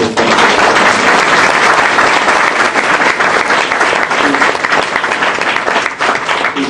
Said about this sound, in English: I'd like us to give a big round of applause for Dee Henry